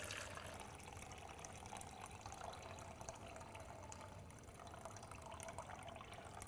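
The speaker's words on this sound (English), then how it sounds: "open the inlet valve to flush the filter" Water flushes through the open drain valve of a TF1 Omega central-heating filter as a faint, continuous hiss and trickle, steady throughout with no talking.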